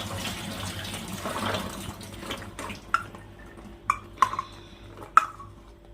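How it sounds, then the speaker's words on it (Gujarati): Water drains and trickles from soaked red kidney beans (rajma) being rinsed in a kitchen, a faint pouring wash followed by several distinct drips and small clinks, close and quiet. "આ મેં બીજી વાર પાણી કાઢી નાખ્યું છે ધોઈને"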